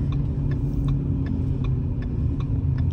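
A car passing by on a road, a steady low engine rumble with faint ticking, heard close and alone without talk.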